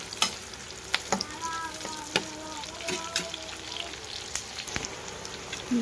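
Food sizzles quietly in a pan while a utensil scrapes and clinks against it in irregular strokes, the frying hiss steady underneath.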